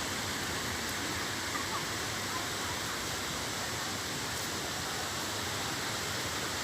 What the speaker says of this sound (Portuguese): Chegamos nas cachoeiras. Estão escutando?